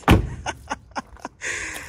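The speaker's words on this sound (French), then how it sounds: "Écoutez les portes. Ah, ça c'est de la bonne Mercedes." Doors of a Mercedes-Benz 450 SEL 6.9 slam shut: one heavy solid thud up front, followed by several lighter clicks and knocks of the doors and latches, then a soft rushing noise, close by.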